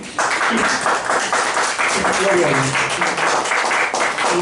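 A church congregation claps together in a sustained, fairly dense burst during a worship service, the hands steady and close, with a few voices mixed in underneath.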